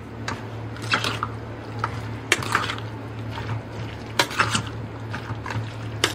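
Coriander-mango chutney being stirred into a dish for Delhi-style matar kulcha, with soft wet squishing and spoon clinks against a bowl over a steady low hum.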